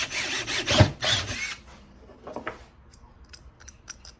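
A PVC pipe is being cut for a DIY dust collection setup, giving a close, loud burst of cutting and grinding noise in the first second and a half, then scattered lighter clicks and scrapes.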